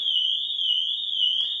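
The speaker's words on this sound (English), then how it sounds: "So if we just give it a bit of a whack, it triggers the alarm system off." A Pandora alarm fitted to a Ford Transit Custom van sounds after a knock on the body: a loud, piercing electronic tone held steady and unbroken, with a faint wavering overtone above it.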